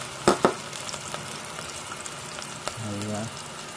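Canned sardines being sautéed with lots of onions in a pan, a soft frying sizzle broken by a few sharp clatters near the start and a brief hum near the end.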